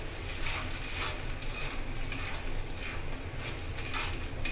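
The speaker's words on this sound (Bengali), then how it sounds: "এখন ভালোভাবে নেড়ে চেড়ে দিব" Onion, ginger and garlic spice paste sizzles steadily in a pan for a fish curry while being stirred, the frying hiss constant and close with soft scraping pulses throughout and no talking.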